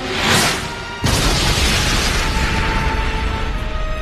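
Beads turned into bombs blow up during an anime fight: a rumbling burst swells and fades, then a second sharp blast hits hard and rolls on as a loud, sustained roar.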